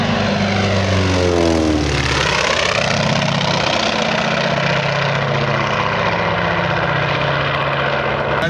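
A propeller-driven warbird with a Hartzell propeller at the Tri-State Warbird Museum showcase in Batavia, Ohio, its engine droning loud and close, sweeping in pitch early on as it moves past, then holding a steady throbbing roar.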